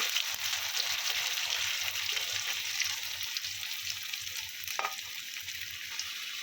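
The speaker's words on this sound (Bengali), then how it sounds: "আলুগুলো ভেজে নেব ভালো করে" Potatoes frying in hot oil before stingray fish is cooked, a continuous close sizzle with rhythmic soft stirring taps and one sharper scrape, steady and without any speech.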